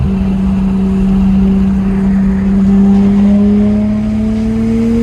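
A Nissan Skyline R33 engine with a stock blow-off valve holds a loud steady note, then slowly climbs as it revs, a smooth rising whine over a deep rumble; no distinct blow-off hiss stands out.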